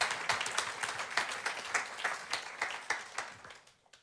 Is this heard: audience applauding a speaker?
yes